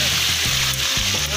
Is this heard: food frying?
yes